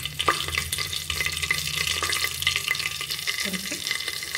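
Cardamom, cinnamon and cloves sizzle steadily in hot oil for egg biryani, a continuous close frying hiss with small crackles and a brief stir near the end.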